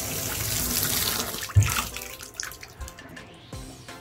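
Water from a clogged bathtub running out through a drain screen, a steady close rushing and gurgling with a few louder splashy bursts partway through.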